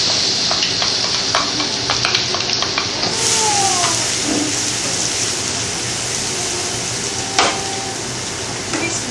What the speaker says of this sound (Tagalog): now we're going to put the garlic